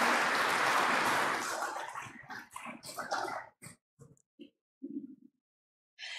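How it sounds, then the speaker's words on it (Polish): Audience applause at a Polish public-service ceremony, a dense burst of clapping that thins after about two seconds into scattered, isolated claps before fading out. "Brawa jak najbardziej."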